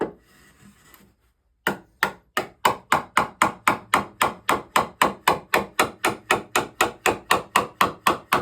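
A hammer taps wooden parts of a foot stool during glue-up, a quiet scrape first, then a steady run of about twenty sharp, evenly spaced knocks, close and crisp.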